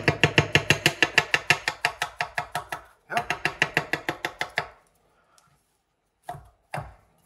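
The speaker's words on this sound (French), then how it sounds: "Vous pouvez aussi couper votre champignon de cette manière. Regardez, je coupe comme ça au début." A knife chops a mushroom on a board in quick, evenly spaced strokes, two brisk runs of crisp close thuds separated by a short pause, then a few isolated knocks.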